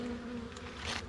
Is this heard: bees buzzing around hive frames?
yes